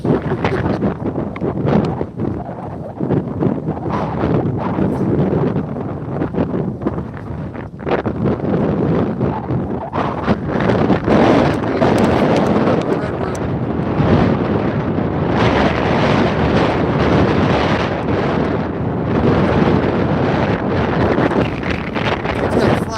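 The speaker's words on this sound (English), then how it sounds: "might be the wind again" Strong wind of about 30 miles an hour gusts across a frozen lake during ice fishing, roaring steadily and loudly into the microphone for the whole stretch, with no clear talk over it.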